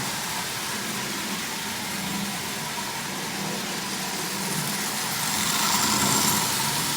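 A derusted prewar Marx toy train motor runs at speed, a steady high-pitched whirring buzz that stays even and fairly loud, rising slightly near the end; no one speaks.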